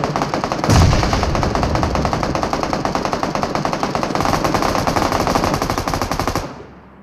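Automatic weapon fire in the video game PUBG Mobile: loud, rapid, continuous bursts of shots that run for about six seconds before cutting off abruptly.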